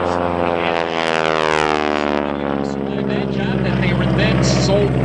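Susan Dacy's Big Red propeller biplane, a former crop duster, drones loudly at an airshow, the radial engine's pitch sliding down in a strong Doppler sweep as it passes close, with an announcer talking over it.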